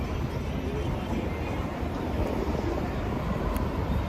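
Wind buffets the microphone outdoors in Akihabara, Japan, with a steady low rumble and rough, rushing noise throughout.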